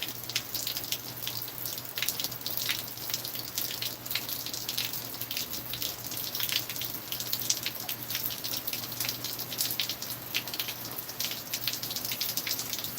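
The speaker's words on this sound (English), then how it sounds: "It's rainy." Steady rain falling outdoors in Oklahoma, a continuous dense patter of drops with fine crackling splashes on surfaces, even and unbroken throughout with no talk.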